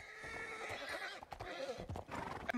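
A Hungarian horse neighs and whinnies loudly at close range, with hoof clip-clops and movement sounds throughout, in short bursts with no one speaking.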